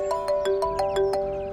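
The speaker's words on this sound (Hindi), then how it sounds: "त्रिशला का फोन है।" A phone ringtone plays a repeating melodic electronic tone in regular pulses, loud and close, with no voices over it.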